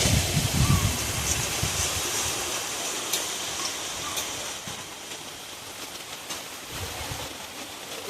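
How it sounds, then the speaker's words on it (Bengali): Steady rain falls outdoors at a home during a stormy spell, a continuous broadband hiss with a few brief heavier patters, moderately loud and without talk. "বৃষ্টি এসে গেছে"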